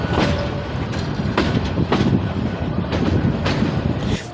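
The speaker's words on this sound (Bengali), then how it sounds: "তো আমাদের ট্রেনটি এখন লাইন ক্রসিং করতেছে" A local train rolls over a junction's line crossings, its steady rumble punctuated by repeated sharp clacks as the wheels pass the points, loud and close from inside the carriage.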